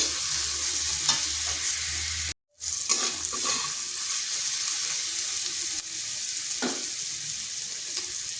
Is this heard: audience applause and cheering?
no